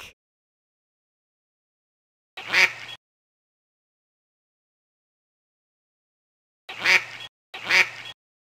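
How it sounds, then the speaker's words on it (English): A duck quacks three times, one single quack followed after a long pause by a quick pair, clear and close against silence. "Duck."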